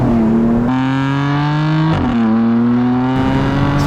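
A BMW M4 with 600 horsepower revs hard as it shifts up through the gears. Loud, close engine tones climb in pitch, drop sharply at each of two quick shifts, then climb again.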